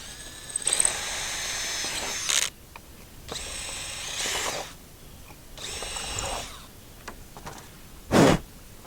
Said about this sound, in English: Now we'll flip it back over and drill these other two holes